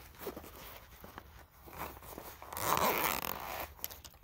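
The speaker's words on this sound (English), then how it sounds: "I come across a zipper that's on this side of the bag" A zipper on the side compartment of a get-home bag is pulled open, a close rasping zip with some handling rustle before it, no talking.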